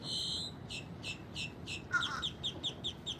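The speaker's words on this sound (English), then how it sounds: "Why do I always forget the names of these birds?" Birds calling near a lake at an apartment complex, a run of repeated short, high chirps in quick rhythm, fairly close and clear over a soft background hum.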